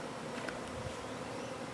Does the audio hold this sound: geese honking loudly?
no